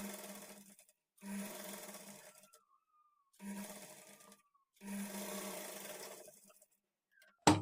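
A sewing machine stitches a fabric strip for a blouse in four separate bursts of rapid mechanical whirring, each running a second or two, with short silent pauses between and a faint clack at the very end.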